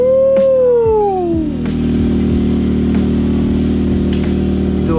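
A Honda Accord fitted with a new dual race exhaust fires up and settles into a loud, steady, deep idle rumble, with a brief descending whine at the start.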